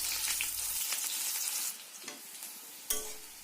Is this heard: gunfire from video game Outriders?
no